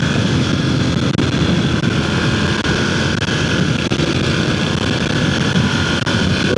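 Ducati Monster 1100 motorcycle thrashed along a curving road at night, its engine a steady, loud, unbroken roar heard up close throughout.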